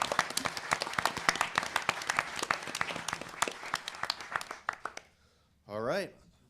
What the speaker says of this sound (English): Can we get a round of applause for Ms.